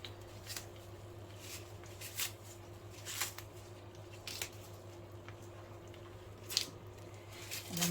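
Wild garlic (ramson) leaves torn into small pieces by hand over a dish of hot potatoes, giving faint, soft crisp snaps and rustles at irregular intervals over a low steady background hum.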